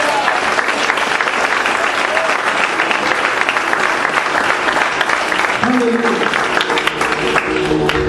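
Church congregation clapping during a sermon, a dense steady wash of applause lasting throughout, with a few brief voices and tones emerging near the end.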